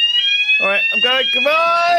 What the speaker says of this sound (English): Oh, that's the fire alarm.